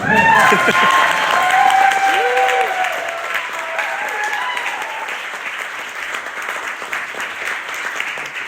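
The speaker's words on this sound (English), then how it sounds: "could you please applaud her?" Wedding guests applaud at a reception toast, a full, steady round of clapping with some cheering and voices over it, easing slightly but holding to the end.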